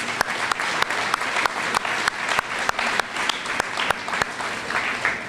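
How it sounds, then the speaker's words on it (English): An audience in the new Menominee Nation Arena gives a sustained round of applause, steady and fairly close, with a few sharper individual claps standing out through the dense clapping. "let's give them a great round of applause"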